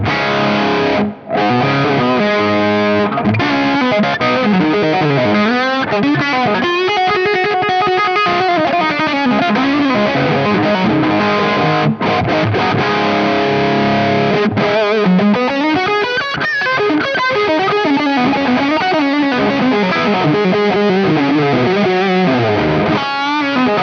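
Heavily distorted electric guitar through a Mezzabarba Skill amp head with the mids boosted, a continuous loud riff of sustained notes and chords with bends and slides and no talking.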